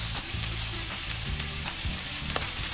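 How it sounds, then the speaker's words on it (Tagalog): Onions sautéing with chicken in a pan for a chicken ginataan (adobo in coconut milk), a steady close sizzle with spoon stirring scrapes and clinks, no voices. "Igisa lang natin siya kasama ng chicken."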